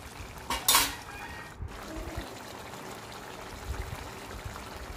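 Chicken curry mixed in a pot: a bright metallic clank of spoon against the pot early on, then soft scraping, stirring and low kitchen noise at a quiet level.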